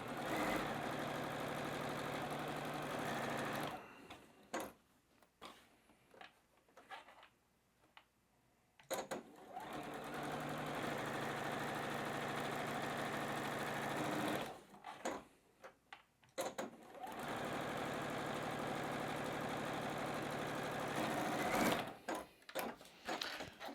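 A sewing machine chain-pieces patchwork fabric, humming in three long steady runs separated by quiet pauses filled with faint handling clicks, moderately quiet and without talk.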